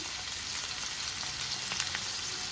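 Tomatoes fry in a pan, giving a steady, fairly quiet sizzle with soft crackles throughout, no talking.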